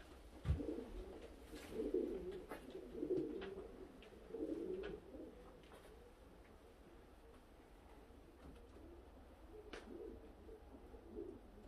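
Modena pigeons coo in a loft, soft low rolling coos in several overlapping bouts, quiet and close, with faint clicks and rustles between and no talk.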